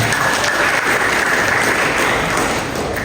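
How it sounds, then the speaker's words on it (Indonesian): A graduation audience gives a loud, sustained round of applause for a college professor, a continuous wash of clapping heard close and unbroken for the whole stretch. "Tepuk tangan lu untuk Pak Profesor kita."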